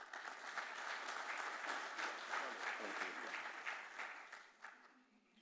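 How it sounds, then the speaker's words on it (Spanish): Audience applause in a conference hall as a panel speaker is welcomed at an economy and politics forum, a sustained crowd clapping at moderate distance that fades out toward the end. "Lo recibimos con el aplauso de todos ustedes."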